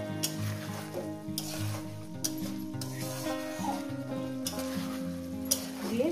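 Tomato, green chillies and spices sizzle and fry in oil for a katla fish curry, with steady stirring scrapes throughout under a backdrop of melodic music.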